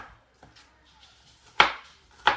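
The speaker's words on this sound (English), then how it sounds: "I like to just do a little rough chop afterwards as well" Vegetables for meatballs getting a rough chop with a knife on a board: a few faint light taps, then two sharp, close knife strikes about a second apart.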